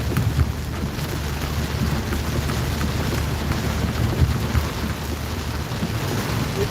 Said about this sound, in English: It really is torrential round here.